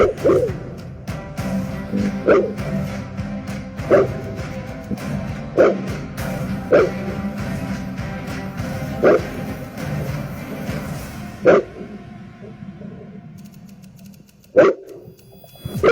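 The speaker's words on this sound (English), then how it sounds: "the dogs are up, they're barking, making noise, letting themselves be known" Livestock guardian dogs bark repeatedly in the distance near goat and sheep pens, sharp yips spaced every second or two over a steady outdoor hum, with a louder bark near the end.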